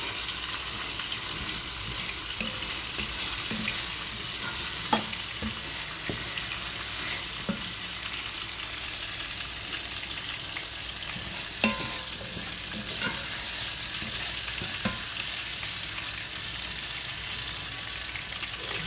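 Rice being stirred into cooked vegetables and ribs in a pan, a continuous sizzle with scraping spoon strokes and occasional sharp clinks against the pan, close and steady with no talk.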